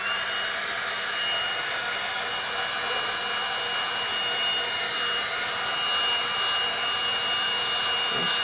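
A heat gun blows steadily on vinyl wrap stretched over a Ford Fusion fog light, a continuous close airy roar with a high whine that holds level throughout with no talk.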